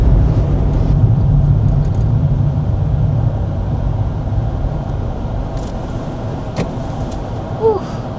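A car climbing a hill during a driving lesson, heard from inside as a steady, low engine rumble with road noise that eases slightly over time. No one speaks.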